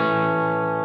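A sustained, distorted electric guitar chord from one section of a song rings out loud and thick with effects and echo, held steady for under a second with no voices.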